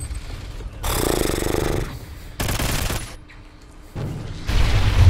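Shotgun fire in Call of Duty Ghosts multiplayer comes as several loud, broadband blasts in quick succession, each a dense burst of gunfire noise with booming low end, separated by quieter game ambience.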